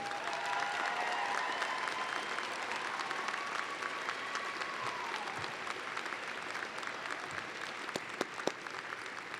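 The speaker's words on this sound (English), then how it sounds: "please take a moment to cheer them on by publicly thanking all those who pitched in to make this day possible." Applause and cheering from a commencement crowd thanking those who made the day possible, a dense, continuous patter heard from a distance and fairly faint, sustained throughout with occasional sharper claps near the end.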